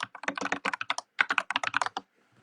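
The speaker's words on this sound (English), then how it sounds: "I hear you typing, sir" A computer keyboard clatters in quick, close bursts of keystrokes for about two seconds before stopping, with no talk over it.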